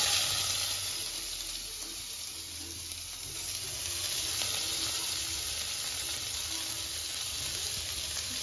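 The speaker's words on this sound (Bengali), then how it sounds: "পেঁয়াজটাকে ভেজে নেব যতক্ষণ না লাইট ব্রাউন কালার আসছে ততক্ষণ অবধি।" Chopped onion fries in a pan with a steady, moderately quiet sizzle that hisses on without pause and has no voices over it.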